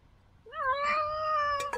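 A hungry tomcat lets out one long, rising meow, close and loud with no other sound behind it, and it ends in a couple of short clicks.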